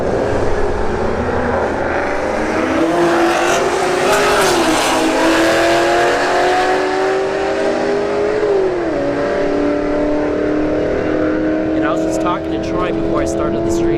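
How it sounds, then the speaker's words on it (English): An S197 Mustang and a 370Z drag race at a motorsports park, engines roaring loudly and steadily with rising and falling pitch as they shift through gears, heard from trackside. "we got a S197 Mustang and Troy Schnabel here in the left lane, the 370Z"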